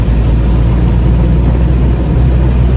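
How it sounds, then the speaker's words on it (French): Wind buffets the fabric soft top of a Morgan Plus Four cruising at 100 km/h: a steady, loud, dense rushing roar over low road and engine rumble, with no voices. "le bruit est toujours présent. C'est-à-dire que le vent qui tremblote sur la toile"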